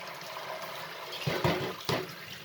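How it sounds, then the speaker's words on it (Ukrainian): Water runs over a surface to rinse away baking soda cleaner, a continuous tap-like wash that swells with two short louder splashes near the end, close and with no talk. "Тому соду оцю треба змивати."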